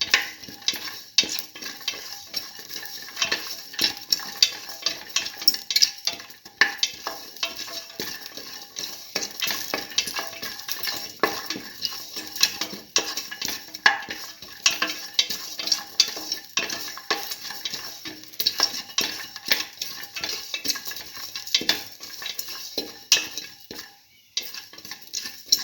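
A spoon scrapes and clinks steadily in a pan as a tomato and split pigeon pea stew sautés, with a faint sizzle under the busy, irregular stirring and no talking.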